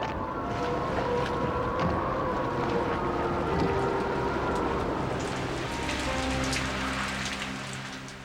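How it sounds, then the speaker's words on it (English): Heavy flood rain in Queensland pours down steadily in a dense, continuous roar of drops drumming on surfaces, loud and unbroken throughout. "That rain was like standing under a tap. It was just so strong you wouldn't believe it."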